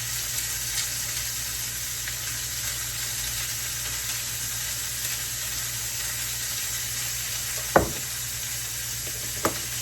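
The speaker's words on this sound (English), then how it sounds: "We're just going to let those sear for a couple minutes on each side just to get some nice color and some nice flavor on them." Chicken sears in a hot pan, giving a steady soft sizzle throughout with a couple of brief sharp clinks or knocks near the end, and no talking.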